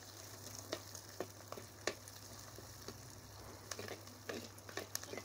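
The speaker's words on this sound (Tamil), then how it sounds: "சின்ன வெங்காயம் பாருங்கள் எப்படி வதங்கிருச்சுன்னு" Small shallots sauté in a pan for prawn kulambu, a quiet, steady sizzle broken by scattered sharp crackles and pops.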